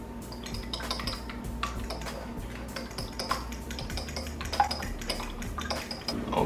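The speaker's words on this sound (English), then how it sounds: "now next you wanna mix it with a fork" Eggs are whisked with a fork in a bowl, giving a quick run of light, rapid clicking and tapping against the bowl's sides, fairly close and without speech.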